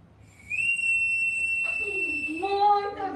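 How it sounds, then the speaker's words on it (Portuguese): A whistle blown during a music lesson, one long steady high tone followed by wavering, sliding blasts, close and fairly loud, with no clear talk over it. "Continue com o apito."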